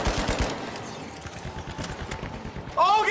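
Rapid automatic gunfire in The Finals, a fast rattling burst of shots close by, followed by a short voice near the end.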